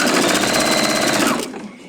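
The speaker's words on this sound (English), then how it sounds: "I am now going to sew it together with a 1/4 inch seam." Sewing machine stitching a quarter inch seam through quilting fabric, a fast, even mechanical chatter that runs loud and close, then stops abruptly near the end.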